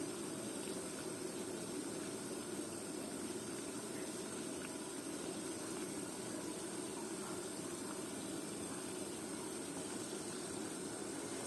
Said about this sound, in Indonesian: Kemudian ukur suhu air yang mendidih.